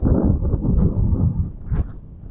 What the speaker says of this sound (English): Pardon the wind too, folks.